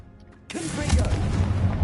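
After a brief quiet pause, a blasting curse goes off in a Hogwarts Legacy spell fight: a sudden loud explosive crack followed by a deep, rumbling boom that lingers.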